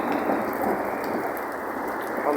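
Steady rain falls over the city of Kenitra, a dense, even hiss of drops that continues without a break, heard alone with no voices.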